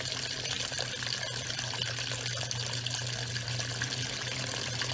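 Water running steadily from a homemade floating tap water feature, a continuous soft trickle and splash with a low hum beneath it, faint and unchanging for five seconds.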